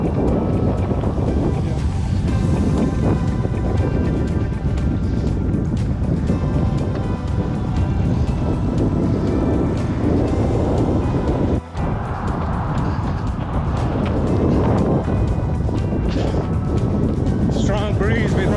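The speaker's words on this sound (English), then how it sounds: "It's pretty windy." Strong, gusty wind roars steadily across the microphone outdoors for the whole stretch, loud and buffeting, while people talk faintly beneath it.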